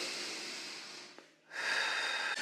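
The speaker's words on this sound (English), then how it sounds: "Deep breath in." A person takes a deep breath in during a breathing exercise, a soft airy inhale close to the mic. A short pause follows, then a second, stronger breath.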